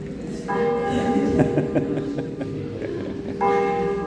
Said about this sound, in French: Et les cloches sonnent.